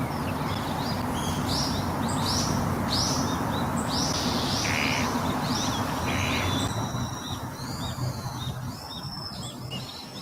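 Several birds chirp and tweet in quick, overlapping calls over a dense, continuous background hum, loud and close throughout.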